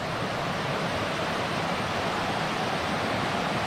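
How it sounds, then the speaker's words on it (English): Small waterfalls spill down the rocks of Ketchum Run Gorge in Loyalsock State Forest, a steady, even rushing hiss of falling water with no breaks, moderately distant and soft. "waterfalls right there coming off. Not big, but they're waterfalls."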